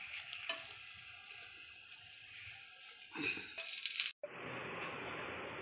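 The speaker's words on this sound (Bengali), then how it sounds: "এই যে সেই গমের পাঁপড়টা ভাজলাম" Wheat papad frying in hot oil, a soft steady sizzle that swells with a burst of bubbling and a brief clink partway through, then settles into a louder continuous fry.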